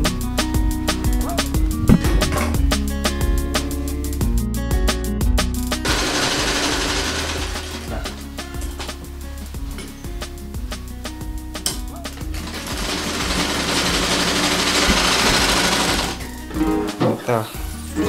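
A sewing machine stitches clothing at home in Jakarta, its steady mechanical whir running under music and talk across most of the stretch.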